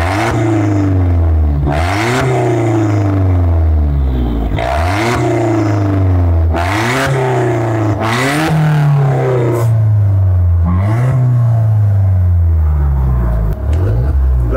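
Alfa Romeo Giulietta Quadrifoglio engine with its remote-switchable exhaust valve shut, revving loudly in five or six repeated bursts that climb and drop, a deep muffled rumble close by with no talking.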